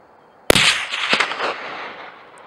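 A single sharp rifle shot cracks out during a chamois hunt in Arthur's Pass National Park, a loud close report followed by a rolling echo that fades over about two seconds.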